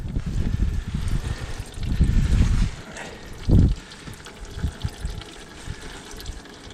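Engine oil trickles and splashes as it drains from a small Kohler Command Pro engine beside a sawmill, an uneven liquid flow with a few heavier gushes and faint handling noises close by.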